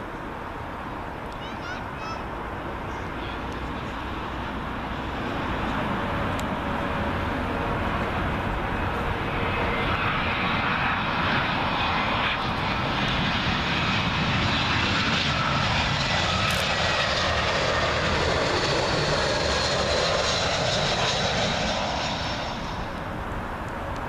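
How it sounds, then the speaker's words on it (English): British Airways Airbus A319 from Jersey on approach to land at Heathrow, a jet roar that builds over several seconds, peaks loud and close overhead, then fades slightly as it passes. "Up next, British Airways A319. This one in from Jersey."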